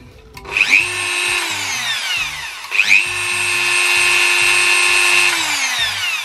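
A Dremel rotary tool on a flexible shaft, foot-switched on for power carving wood, whines up loudly twice into a steady high-pitched spin, with a brief drop between the two runs and no talking.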